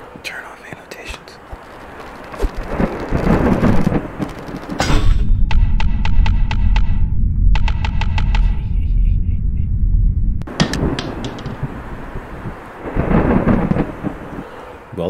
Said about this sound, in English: Well-timed lightning.